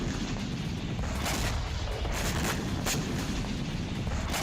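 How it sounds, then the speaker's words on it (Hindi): Russian missile strikes and explosions in the Ukrainian port city of Odesa come as a continuous dense rumble of distant booms and crackling blasts under heavy broadband noise, with no clear speech. "यूक्रेन की पोर्ट सिटी में रूस ने ब्लैक सी से एक के बाद एक कई मिसाइलें दागी।"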